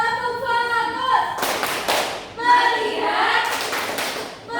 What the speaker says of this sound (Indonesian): Ayo kita tepuk fokus dulu ya.